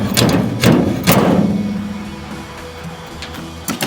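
Round bar hammering a dent out of a car tailgate: a few heavy metallic thumps close together early, then a quieter ringing tail and one last knock near the end.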